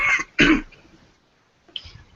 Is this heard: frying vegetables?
no